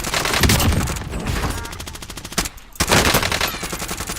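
Krig 6 rifle fire in Call of Duty Warzone, long rapid automatic bursts close and loud, broken by a brief pause before another sustained stream of shots.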